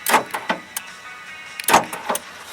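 Several short, sharp mechanical clunks and thuds from the central door lock actuators of a 1992 Toyota Tarago (Previa), a pair near the start and another cluster shortly after, with quiet between.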